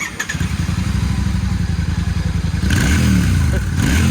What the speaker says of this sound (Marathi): बोलती गाडी 650 cc इंजिन आहे.